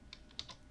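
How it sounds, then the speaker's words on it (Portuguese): Someone types an address into a web browser on a computer keyboard, producing a few quick, faint, close key clicks in a very brief burst. "vamos digitar aqui no navegador Asus"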